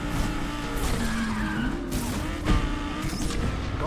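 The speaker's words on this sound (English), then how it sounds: "That Shimizu guy is so fast in that LaFerrari." Tires skid and squeal on a Ferrari LaFerrari race car in a racing video game, a continuous loud screech with engine roar and a brief impact-like burst partway through.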